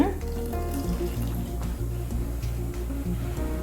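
A pan of tomato curry bubbles and sizzles steadily at close range, with a soft continuous frying crackle and no talking.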